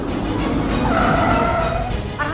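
A car slowing to a stop with a drawn-out tire screech over a constant road and engine rumble, close and fairly loud.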